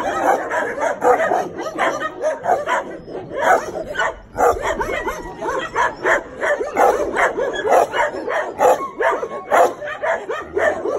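Several dogs in animal shelter kennels bark, yip and whimper in a rapid, overlapping chorus, close and loud, with sharp repeated bursts continuing throughout.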